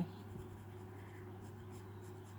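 A sharpened graphite pencil shades steadily across a sheet of drawing paper during a portrait drawing lesson, a soft continuous scratchy rasp at close range over a constant low background hum, with no talking.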